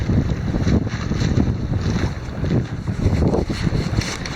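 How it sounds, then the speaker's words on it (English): A sailboat tacks along the northern shore of Long Island, with loud, gusting wind buffeting the microphone over the rush of water and waves, continuous throughout and with no voices. "we are still tacking our way up along the northern shore of Long Island"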